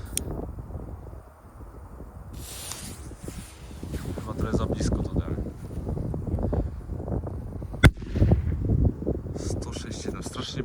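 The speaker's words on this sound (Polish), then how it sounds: "testujemy pierwszą petardkę Magnum" A Magnum flash firecracker holding about half a gram of flash powder goes off outdoors with a single sharp crack. The bang rises briefly above a wind-buffeted background and people talking.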